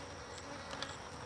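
Honey bees buzzing in an open hive box during a cloudy-day inspection, a steady dense hum with faint higher whines, no talk.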